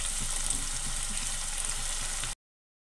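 Potato bites fry in oil in a wok, a steady dense sizzle heard close up and alone, cutting off abruptly.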